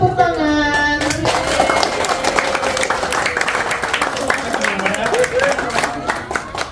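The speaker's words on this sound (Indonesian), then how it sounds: "Sekali lagi tepuk tangan." Applause and clapping from a crowd at a Balinese Hindu community thanksgiving celebration in Kupang, steady and dense over music and voices, with speech running through.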